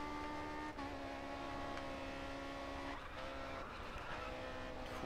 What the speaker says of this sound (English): Full tyre squealing, and we've gone off round